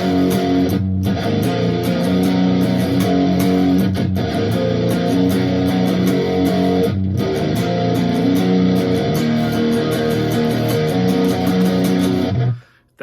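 A distorted electric guitar plays a pre-chorus in loud, sustained, dense chords that carry steadily for about twelve seconds before stopping abruptly.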